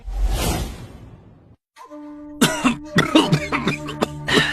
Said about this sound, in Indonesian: suara batuknya terdengar parah sekali